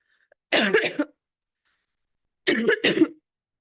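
Two pairs of close, harsh coughs from someone recovering from COVID, separated by silence, each burst short and throaty.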